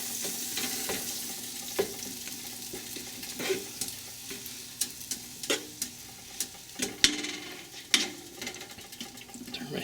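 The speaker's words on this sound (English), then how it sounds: "Put in 4 tablespoons of butter. I'll melt this." Butter melts in a warm pot with a faint, hissing sizzle, broken by scattered light taps and clinks of utensils.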